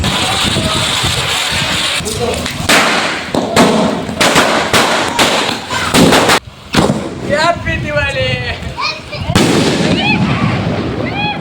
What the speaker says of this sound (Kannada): ಪಟಾಕಿ ಹಚ್ಚಿದ್ದೀವಿ ನೋಡಿ.